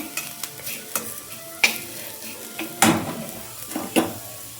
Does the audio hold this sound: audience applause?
no